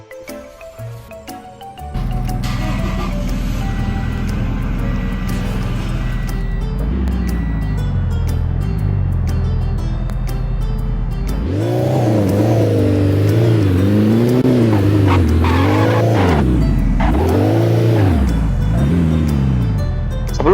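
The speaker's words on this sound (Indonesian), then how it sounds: "Kita ke puncak menggunakan mobil ribbon kita." A car driven in the Roblox game CDID on a West Java map, its engine droning steadily and then revving up and down in repeated swells, loud and close with no talk over it.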